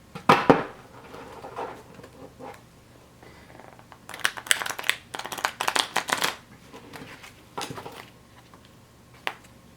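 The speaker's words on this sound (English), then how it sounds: "I'm going to try one riffle shuffle here to see how well it does on a side riffle" Playing cards in Ultra Pro Magic: The Gathering deck protector sleeves are riffle shuffled up close: a quick flutter early on, then a longer burst of rapid clicking and riffling, with quiet handling between.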